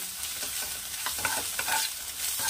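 Mustard flowers frying in a pan with a splash of mustard oil, stirred with soft scraping strokes over a low, even sizzle, fairly quiet and close, no talking.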